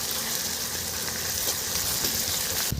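Garlic paste is stirred and fried in a pan for a homemade mutton curry, with a dense, continuous loud sizzle filling the whole moment and a soft scrape of stirring near the end.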